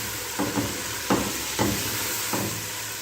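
Chicken pieces frying in hot oil for a chicken biryani, a steady broadband sizzle with several short louder bursts of spitting or stirring, close and alone with no talk.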